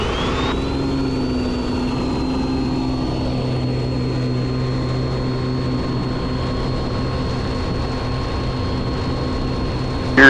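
A Piper Comanche 250 single-engine aircraft runs at full power just after takeoff, giving a loud, steady propeller-engine drone that holds unbroken throughout, with no talking.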